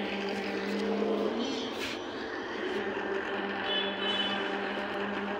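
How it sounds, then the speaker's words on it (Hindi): A steady, buzzing whir of a small drone's propellers spins continuously at close range as it takes off, with a faint voice underneath. "उड़ने वाला ड्रोन और यहाँ पे पंखड़िया चालू हो चुकी है और ये उड़ चुका है"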